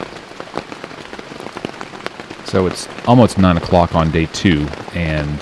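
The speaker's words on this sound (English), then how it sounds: "that sound is the rain that's hitting my tent." Rain patters steadily on a tent during a night of camping on day two, a continuous soft hiss heard close, with someone speaking over it through the second half.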